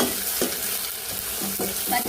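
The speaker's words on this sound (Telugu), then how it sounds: "బాగా ఫ్రై అయిన తర్వాత మనం మిక్సీ పట్టేసుకున్న పేస్ట్ అయితే వేసేసుకున్నాం అల్లం వెల్లుల్లి పేస్ట్ కొత్తిమీర పేస్ట్ అనమాట" Ginger, garlic and coriander paste fries with onions in a pan for a chicken gravy, a loud continuous sizzle broken by repeated stirring scrapes, with no voices.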